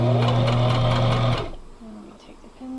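Sewing machine running steadily while stitching fabric for a scrappy patchwork bag, loud and close for about a second and a half before stopping short as the fabric is turned.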